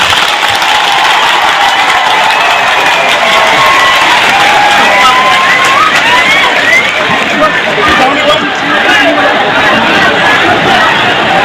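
Large audience at a stage event cheering and clapping loudly and continuously, a dense roar of crowd noise with babble and shouts mixed in.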